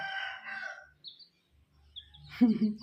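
A rooster crows in short, broken bursts, the loudest call near the end, with a person talking nearby at the start.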